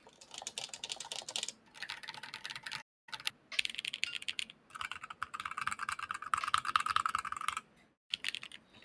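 Typing on a fully assembled HHKB keyboard: brisk, continuous key clicks in close bursts with short pauses between runs, no voices.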